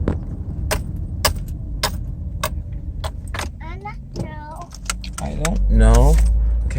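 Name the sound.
car driving out of parking spot, possible bad alternator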